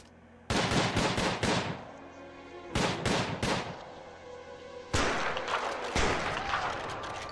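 Loud bursts of automatic gunfire in the prison-management video game Prison Architect, coming in three separate volleys of rapid shots with short pauses between them.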